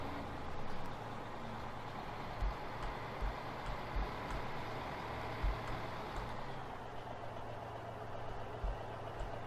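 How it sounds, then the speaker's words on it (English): A heavy truck engine in Farming Simulator 15 drones steadily and loud, a continuous low rumble with occasional soft thumps, running alone without talk throughout. "Well, the truck seems to have the horsepower."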